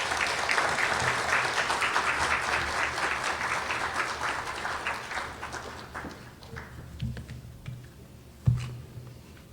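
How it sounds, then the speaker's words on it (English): Sustained audience applause fills the room at an awards ceremony, steady and fairly loud at first, then tapering into scattered claps with a lone louder clap near the end. "Let's give Mrs. Burke-Skeen another round of applause, please."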